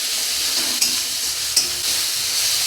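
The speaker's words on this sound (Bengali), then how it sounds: "একটু ভাজা ভাজা করে নেব।" A loud, steady sizzle of spices frying with small shrimp in a hot pan, close up, with two brief stirring knocks breaking the continuous hiss.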